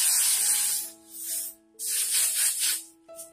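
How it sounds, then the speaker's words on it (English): Hair spray hisses onto the front of a pixie updo in two close, loud bursts, each a breathy aerosol spray about a second long, followed by a short final puff. "And then I'm just going to spray the front."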